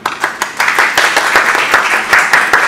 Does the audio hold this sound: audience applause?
yes